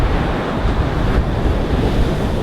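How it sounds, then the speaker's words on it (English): Steady roar of ocean surf washing onto the beach at Myrtle Beach State Park, broadband and continuous, with a breezy rush of wind over the microphone. "You can sound the waves in the morning."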